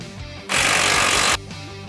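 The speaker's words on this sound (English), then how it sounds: "Next, we're going to remove this lower shock bolt." An impact wrench or powered driver loosens the lower shock bolt on a Polaris RZR XP 1000, giving a loud, steady whirring buzz just under a second long. A quieter engine-like hum runs before and after, and there is no talk.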